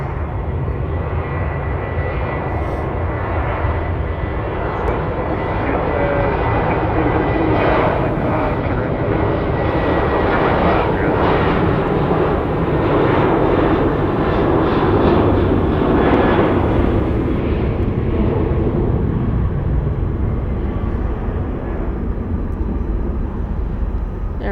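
Airliner departing Dallas Love Field during reverse operations, a loud sustained jet engine roar that swells through the middle and slowly fades, heard from nearby with no talking.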